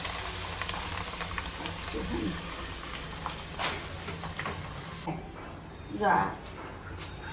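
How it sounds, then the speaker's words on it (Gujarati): Corn flakes (makai poha) fry in hot oil for a savory snack mix, giving a steady, close sizzle and crackle throughout with a brief louder bubbling burst near the end. "મકાઈના પૌવા છે, તળી દેવાના છે."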